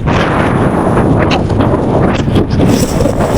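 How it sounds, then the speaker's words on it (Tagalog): Strong wind buffets the microphone in a loud, constant roar with gusty surges, outdoors on a road trip through North Luzon, with no speech. "Grabe lakas ang hangin."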